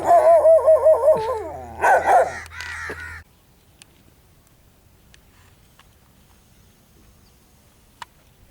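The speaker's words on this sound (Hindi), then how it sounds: "ये देखें एक ये डॉगी है बड़ा तंग कर रहा है" A dog barks outdoors during an airgun dove hunt, giving a quick cluster of loud, close, harmonic barks and yelps over the first three seconds before the scene falls nearly silent.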